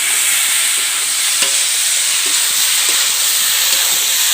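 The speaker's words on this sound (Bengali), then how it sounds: "টমেটোটা দিয়ে আবার অল্প সময়ের জন্য লাড়াচাড়া করবো যাতে টমেটোটা পুরো মাংসের সাথে গলে যায়।" Tomatoes stirred into chicken pieces in a hot pan for a simple chicken curry, producing a loud continuous hiss and sizzle with occasional spatula scrapes and taps.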